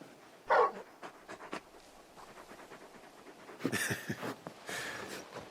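A large dog companion in the Final Fantasy XVI video game pants and whimpers softly in short bursts, with a louder breathy burst near the start and more panting toward the end, close and fairly quiet.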